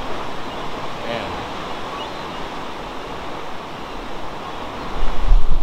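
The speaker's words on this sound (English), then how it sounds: "Just watch the waves just smash the rocks." Ocean waves smashing against rocks on the Oregon coast near Sea Lion Caves, a loud continuous roar of surf and wind with a heavier surge near the end.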